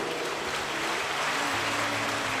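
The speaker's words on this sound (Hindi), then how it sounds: "एक बार जोरदार ताली बजाएं।" Applause from a large audience at a Shiv Mahapuran katha gathering, a steady dense wash of clapping that holds evenly throughout.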